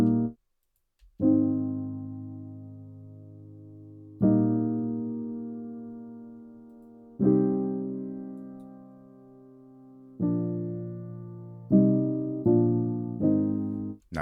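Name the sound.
soft piano playing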